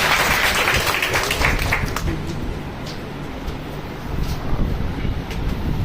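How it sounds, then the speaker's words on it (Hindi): Steady crowd applause at a lecture fills the clip, a dense wash of clapping that holds loud throughout with a slight swell near the end. "ताली बजाओ, जोरदार ताली बजाओ।"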